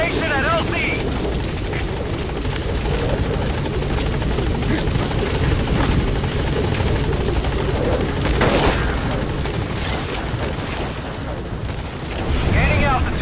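Pequod helicopter from Metal Gear Solid V arriving at a landing zone, a loud steady rotor thrum that fills the whole stretch, with a rumbling burst midway and voices partly underneath.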